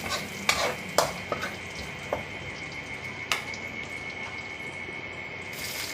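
Onions sauté in a pan for a sardine dish with a steady, close sizzle, broken by a few sharp clinks of a utensil against the pan early on.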